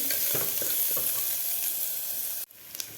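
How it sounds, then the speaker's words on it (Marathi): Chopped onion and garlic sauté for Kolhapuri misal in a pan, a loud close sizzle with spatula stirring strokes that cuts off sharply near the end, leaving a quieter low fry. "आपला कांदा आणि लसूण व्यवस्थित परतून झालेला आहे"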